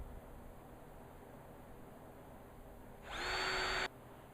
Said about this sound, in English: And drill holes.